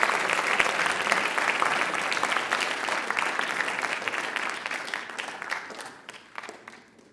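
Audience at a school writers expo gives a sustained round of applause, dense steady clapping filling the room and thinning out toward the end.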